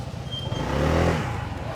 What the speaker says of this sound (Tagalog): Ay, may motor dito oh.